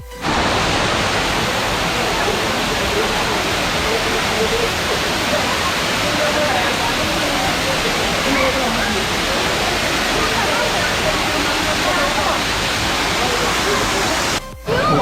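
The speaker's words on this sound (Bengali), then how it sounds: "ব্রিজের উপর তো ঝর্ণাটা দেখলেন এখন কাছ থেকে দেখুন যে ঝর্ণাটা দেখতে কেমন" A waterfall in Cherrapunji roars up close: a loud, dense, unbroken rush of falling water that fills the whole stretch. It cuts off briefly just before the end.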